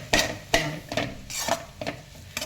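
A spoon scrapes and clinks against a pan while Maggi noodles and coriander leaves are mixed, giving about six sharp, evenly spaced strokes close up with no talking.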